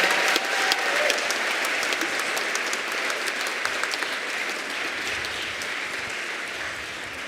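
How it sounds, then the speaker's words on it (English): Sustained applause from an audience at an elementary school's grandparents and special friends day. The steady, dense clapping fills the whole stretch at an even level, with no voices over it. "Can we get another round of applause for those amazing kids?"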